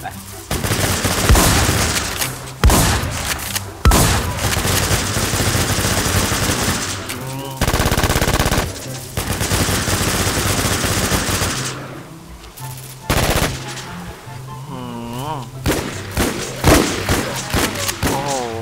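Gunfire in the survival shooter Infestation, set in Campos city: loud, dense bursts of rapid automatic shots and thumps that keep going with few breaks, while a voice talks over the shooting.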